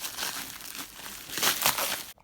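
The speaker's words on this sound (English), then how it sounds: "let me unwrap these real quick" Wrapping paper crinkles and rustles up close as sneakers are unwrapped, a few quick bursts of crumpling over about two seconds.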